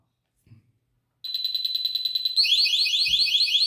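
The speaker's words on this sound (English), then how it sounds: "Good, now too much, and then the tag will alarm." A 3 Alarm Bandit II retail security tag bursts into a loud, piercing electronic alarm, first a steady pulsing tone, then a rapidly warbling shriek, with a couple of soft handling knocks before and during it.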